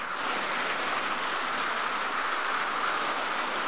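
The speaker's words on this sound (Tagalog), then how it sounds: "Nandiyan na yung ulan." Steady rain pours down outdoors as a dense, even hiss with no breaks, fairly loud and close, with no voices over it.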